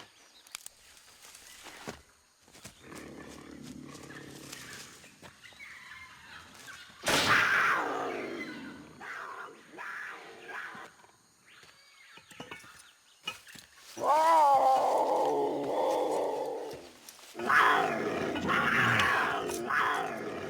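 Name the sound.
genetically altered jaguar growling and roaring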